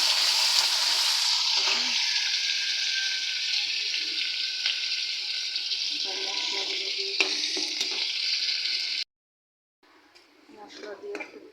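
Shrimp frying in a pan for a bitter gourd prawn curry give off a loud, steady sizzle with occasional stirring scrapes for about nine seconds, then a brief silence before quieter clattering and sizzling resume.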